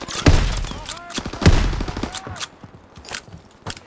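Rapid bursts of gunfire and heavy shots crack close and loud in a Call of Duty WW2 online match, fading into sparser reports.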